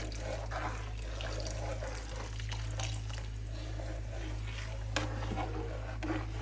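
Milk is poured a little at a time into a pot while it is stirred, giving a continuous close liquid rush and trickle with occasional soft spoon clinks over a low background hum, and no one speaks.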